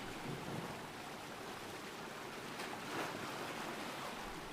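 Ocean waves wash in a steady, broad roar of surf with a gentle swell near the middle, heard alone without voices.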